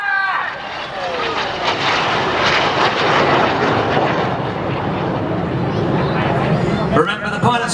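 Red Arrows jets roar loudly overhead during a 2016 air show display, finishing a roll in formation trailing red and blue smoke; the continuous jet noise rises and holds while a commentator talks over it.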